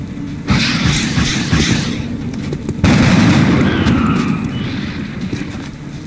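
Squad gunfire in the XCOM Enemy Unknown video game, two loud sustained bursts of rapid automatic fire close up, the second starting abruptly midway and fading with echoing rumble.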